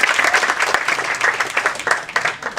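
A loud college crowd at a Mithibai event gives a big round of applause to contest winners called onto the stage. The clapping is vigorous and continuous, with some cheering mixed in.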